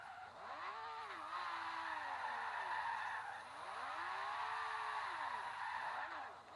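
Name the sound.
Lamborghini Aventador doing a circular burnout in Forza Horizon 2 video game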